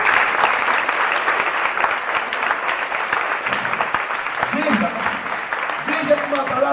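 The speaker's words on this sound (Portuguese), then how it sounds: "Pode aplaudir Jesus." A church congregation applauds during a sermon, a dense steady wash of clapping that continues for several seconds, with a preacher's voice coming in toward the end.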